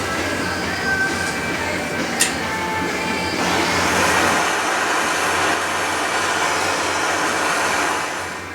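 Steady loud blowing roar of a heat gun warming Loctited T25 Torx screws on a Polaris General UTV, running continuously with a brief click near the start and the pitch shifting slightly partway through.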